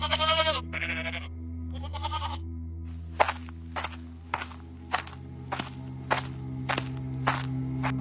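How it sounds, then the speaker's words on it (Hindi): Goats bleat loudly in a series of wavering calls, followed by a steady run of sharp, evenly spaced clicks or knocks over a low continuous hum, with no talking. "ये बकरियां भी काफी शोर मचा रही हैं"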